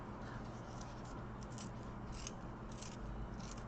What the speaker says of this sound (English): Always hold the sharpener in your dominant hand and turn with your less dominant hand